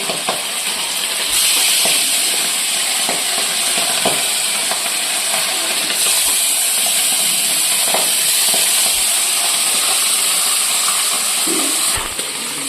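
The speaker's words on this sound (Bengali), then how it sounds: "তো এখন পাবদা মাছগুলি ভেজে নিই। মাছ দেখো কিভাবে ফুটতাছে।" Pabda fish fry in hot oil with a loud, continuous sizzle and hiss, broken by occasional faint pops and clicks from the pan.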